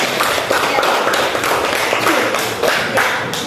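A school class applauds indoors, and the dense clapping stays loud and continuous for a few seconds without any break. Some faint voices can be heard mixed in.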